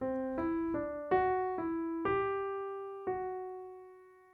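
A short piano phrase of seven distinct notes, each struck clearly and left ringing, the last one sustained and slowly fading.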